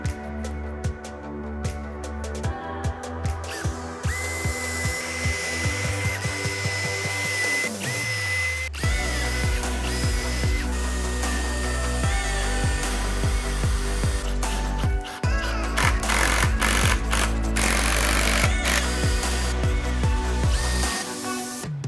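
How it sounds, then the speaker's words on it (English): A power drill with a countersink bit pre-drills holes, then drives two screws into each wooden joint of an axe throwing target frame, whining steadily up and down in pitch with short stops between runs, close and loud. "We're going to pre-drill the holes with a countersink bit and put 2 screws in each joint."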